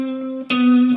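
Electric guitar plays an overdubbed lick from a song: a held, slightly effected tone, then a sharp pick attack into a second sustained note, loud and close, with no talking.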